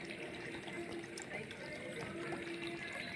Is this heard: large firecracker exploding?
no